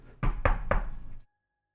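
Three firm knocks on a door in quick, even succession, close and loud, followed by silence.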